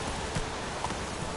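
The horse Roach gallops briefly in The Witcher 3, a quick run of hoof clip-clops on the ground, fairly close and steady, heard alone.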